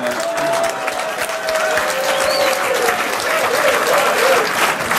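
Members of the Norwegian parliament, the Storting, break into laughter and scattered applause. The clapping is dense and sustained for about five seconds, with murmuring voices mixed in.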